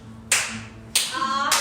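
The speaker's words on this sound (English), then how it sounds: "I got claps." Three loud, sharp claps spaced about half a second apart, close by, with no talking over them.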